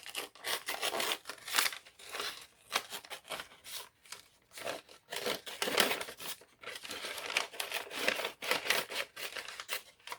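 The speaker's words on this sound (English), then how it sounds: "So I'm going to cut down this bag." Scissors cut down and across a plastic bag for a junk journal craft, giving close crinkling and snipping sounds in irregular bursts with short pauses and no talk.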